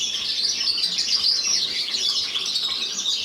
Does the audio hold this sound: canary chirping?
yes